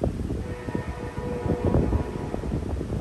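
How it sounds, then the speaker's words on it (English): A train whistle blowing near a railroad crossing, a sustained tonal horn heard over a rumbling, gusty background, moderately distant and continuous across the short stretch. "There's the train whistle."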